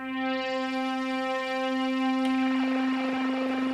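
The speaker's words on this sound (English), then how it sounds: "So I use the track for another sound, which is in this case kind of a riser sound" A riser patch on an Elektron Digitone with a fast triangle LFO and filter cutoff slowly opening: a sustained, buzzy synth tone that grows brighter and wobblier over a few seconds, with rapid modulation swelling in near the end.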